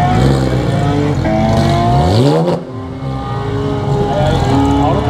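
A supercar at a car meet accelerates hard at full throttle, its loud close engine rising in pitch, breaking off briefly at a gear change, then climbing again.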